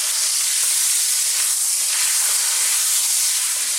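Pork and broccoli sizzle hard in a wok over high heat, a steady, loud hiss of frying that carries on without a break and with no voices.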